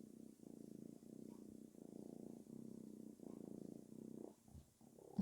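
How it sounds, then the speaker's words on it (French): A small red kitten purrs close up in steady rhythmic waves, soft and continuous, with a brief shuffle near the end. "je vous laisse mon petit chaton ici, le temps de tirer vos cartes"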